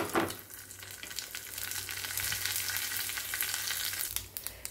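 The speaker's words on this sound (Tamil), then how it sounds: "நல்லெண்ணெய் விட்டுட்டு கடுகு, உளுத்தம்பருப்பு, ஒரு 2 மிளகா வத்தல் இதெல்லாம் போட்டுருங்கோ" Mustard seeds, urad dal and two dried red chilies crackle in hot sesame oil, a close, continuous sizzle with fine popping spatters throughout and a brief stir at the start.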